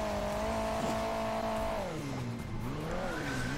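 A rally car fitted with wings races in Hill Climb Racing 2, its engine note droning steadily and then dipping and rising again as revs change. The sound is continuous and close, with a squealing edge and no voices.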